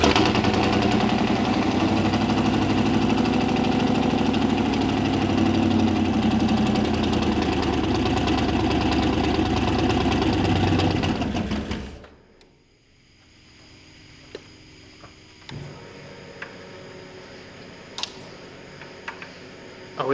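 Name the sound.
turbo V8 police car engine idling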